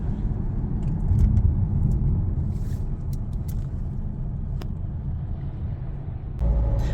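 A car rolls slowly along a scenic hillside road in Croatia, its low engine and tyre rumble steady and close throughout, with a few faint clicks and knocks from inside the cabin.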